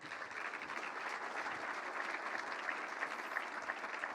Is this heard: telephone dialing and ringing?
no